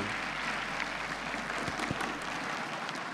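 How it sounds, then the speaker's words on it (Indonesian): A crowd at a stand-up comedy grand final claps steadily, a dense, even patter of applause filling the room without pause. "Tepuk tangan sekali lagi untuk Indra Frimawan."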